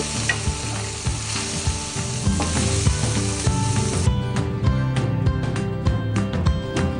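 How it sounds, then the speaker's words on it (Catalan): Prawns sauté loudly in a hot pan at a prawn food fair in Alcanar, a dense steady sizzle with stirring scrapes and clinks running throughout. "posarem els llangostinets, per sofregir-los una mica"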